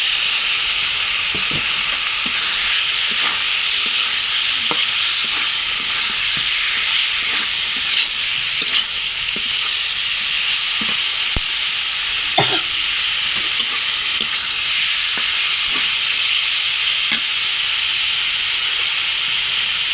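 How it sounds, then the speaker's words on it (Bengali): Chelir fish frying in spice masala in a pan for a fish curry, with a loud, steady sizzle and hiss throughout. Occasional short scrapes and clinks come from stirring close by. "চেলির মাছটা এখন আমি দিয়ে দেবো। মশলার সাথে একটু কষানো হবে।"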